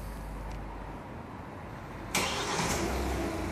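A Kia Sportage car engine starting: a steady idle hum, then a sudden loud catch and slightly raised running note about two seconds in, heard up close.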